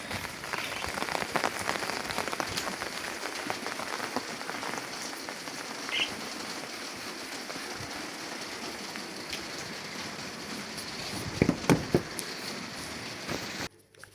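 Rain falls steadily on an outdoor surface, a close, even patter with scattered louder drops and a few sharp knocks near the end before it cuts off.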